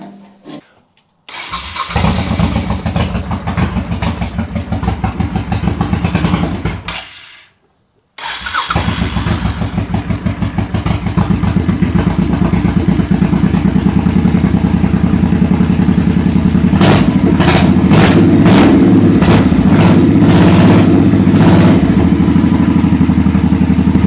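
A 2001 Honda Shadow motorcycle engine fires up and runs loud and close, with a brief cutout near the start before it settles into a steady, throbbing idle that carries on alone to the end.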